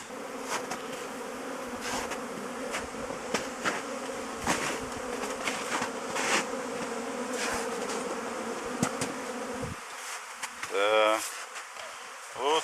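Honeybees fly around a hive at an apiary on their first flight of the season, a dense, continuous buzz with individual bees droning close past, ending with a brief louder pass near the end.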